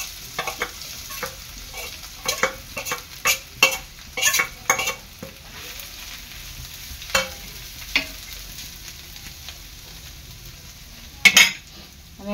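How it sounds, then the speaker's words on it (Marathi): Dry bombil chutney fries in hot oil under repeated scraping and stirring with a metal spoon against the pan, sharp irregular clinks and scrapes over a soft sizzle, with a louder clatter near the end; no voices. "आता मी ही चटणी फ्राय करते।"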